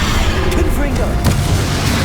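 Confringo fire-blast spell bursting in Hogwarts Legacy, a loud booming blast amid dense game combat noise, with someone talking over it.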